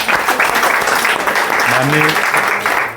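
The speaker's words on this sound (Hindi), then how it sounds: "उनके लिए पुनः एक बार जोरदार तालियों स्वागत चाहूँगा" An audience gives loud, sustained applause to welcome an MLA at a Hindi-language public gathering, many hands clapping densely and close with a faint voice or tone sounding partway through.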